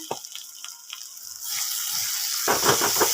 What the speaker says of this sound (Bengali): দেখুন মশলাটা কি সুন্দরভাবে কষানো হয়েছে